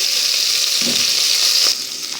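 Raw meat with onion frying in a pan gives a loud, continuous close-up sizzle with a bright hiss, a few stirring scrapes, and a slight easing of intensity near the end.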